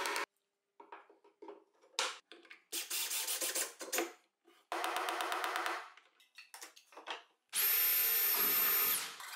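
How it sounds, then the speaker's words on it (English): A power screwdriver driving screws to fasten a junction box on a mobile workbench, heard as several short whirring bursts with pauses between them, ending in a longer, higher-pitched run. "I fasten a junction box with screws to protect the back of the switch"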